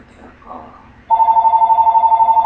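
Telephone ringing loudly and close with a rapid, steady electronic trill, after a moment of faint background talk.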